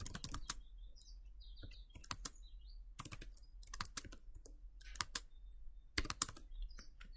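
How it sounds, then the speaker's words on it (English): A command is typed on a computer keyboard during a Windows password reset, with sharp, close clusters of keystrokes separated by short pauses over a low steady hum. "So I'm going to type this command."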